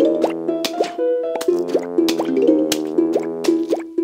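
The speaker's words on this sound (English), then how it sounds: "Let's put a potato mine down." Plants vs. Zombies game audio as a potato mine is planted: a busy run of bright plopping and bouncy pitched effects over layered musical tones, with no talk.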